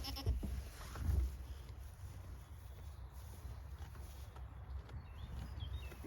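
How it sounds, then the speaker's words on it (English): Goats bleat on a homestead, a couple of short calls near the start over steady outdoor background noise, with quieter rustling afterward and no talking. "I want to just go and play with my goats."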